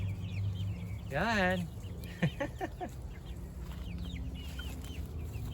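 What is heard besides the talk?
backyard chickens clucking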